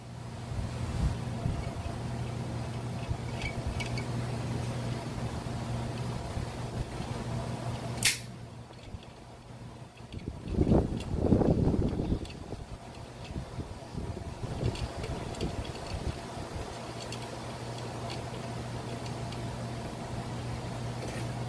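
A brush cutter engine running roughly on old, stale fuel, with a steady mechanical drone that drops out briefly, then surges back in a louder sputtering burst before settling into its hum again.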